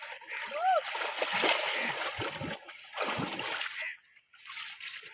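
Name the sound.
water splashing while bathing in a river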